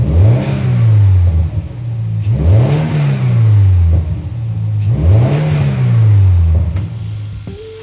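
A 2022 Subaru BRZ on its stock factory airbox intake revs three times in a steady pattern, each rise climbing and falling back to idle, loud and close with no talking.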